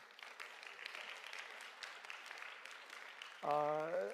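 Scattered clapping from a church congregation builds into steady applause, then a sustained tonal voice or note enters near the end.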